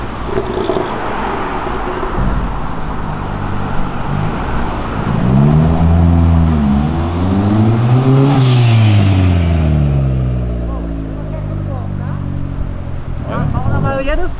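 A turbocharged BMW M3 engine revs hard through rising and falling pitch sweeps, loud and close, with people talking and road noise throughout.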